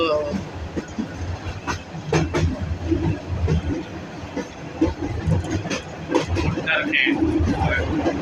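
A passenger train runs on rails through farmland in Lalmonirhat, Bangladesh, with a steady rumbling roar and rhythmic clatter throughout, close and loud, mixed with wind and engine noise.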